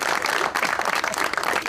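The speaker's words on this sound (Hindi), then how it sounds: "ख़वातीन और हज़रात, आपकी भरपूर तालियों में हमारी veteran artist Pakistani film industry की मदिया शाह" Studio audience applause on a television show, welcoming a veteran Pakistani film actress and the cast of a film: a loud, dense, continuous wash of clapping over a short burst.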